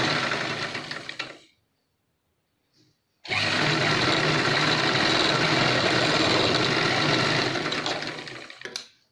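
A sewing machine stitching a churidar pajami seam, a short whirring run that stops, then after a pause a longer steady, loud mechanical hum of stitching that ends with a brief click.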